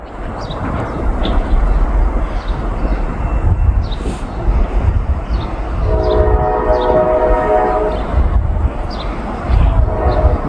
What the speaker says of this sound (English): That's Norfolk Southern 143 headed this way.